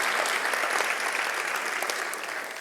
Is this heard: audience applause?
yes